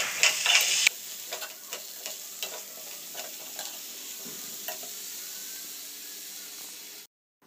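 Potatoes and cut eggplant frying in hot oil for a vegetable curry, a steady close sizzle with a loud burst at the start and repeated scrapes of a spoon stirring through the pan, no voices.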